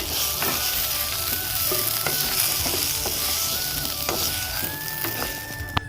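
Eggplant fries in a pan with a constant loud sizzle, broken by scraping and clicking as a utensil stirs the pieces.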